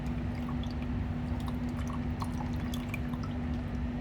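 Water washes a soil sample into a beaker in a soil lab, a steady trickling pour with scattered drips, close and continuous over a low electrical hum.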